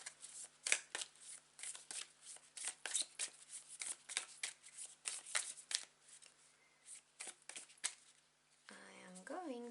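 Tarot cards are shuffled in a quick run of crisp riffling flicks and slides, close and fairly soft. Near the end, a soft voice speaks briefly.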